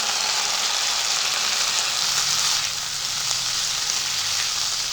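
Broccoli frying in a pan with tomato ketchup and soy sauce, a loud, steady hiss of sizzling that holds nearly unbroken throughout.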